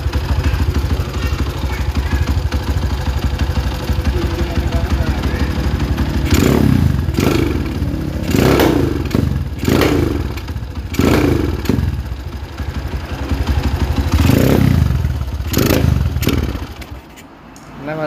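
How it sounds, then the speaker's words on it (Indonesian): A motorcycle engine undergoing a carburetor check idles steadily, then is blipped through a series of sharp revs in quick succession, close by and loud, with a final dip near the end. "Nah, kita perhatikan dari suara mesin ini."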